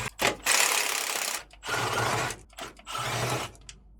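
A ratchet undoing bolts on a DAF truck, giving bursts of rapid mechanical clicking in three or four close, moderately loud runs with brief gaps between them.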